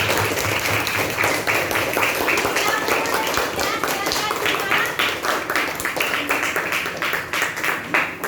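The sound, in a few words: classroom applause for a student group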